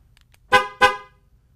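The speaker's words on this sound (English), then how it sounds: "I hit the horn." A car horn gives two short, loud, close honks in quick succession, with silence before and after.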